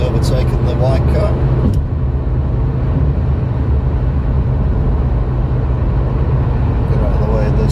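Car driving along the M60 motorway, a loud steady rumble of engine and road noise with passing traffic, continuous throughout with no voice over it.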